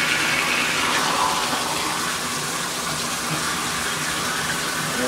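Shower spray with strong pressure runs steadily for the whole stretch, a loud, close, broadband hiss of gushing water with no voices over it.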